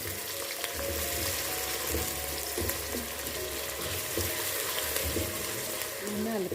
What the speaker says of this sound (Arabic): توا نحطو البصل، بسم الله، نقليوه شويه